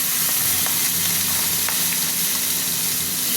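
Steady, loud sizzling of pomfret fish frying in hot oil, crackling continuously throughout with no voices.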